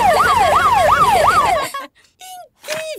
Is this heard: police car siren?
yes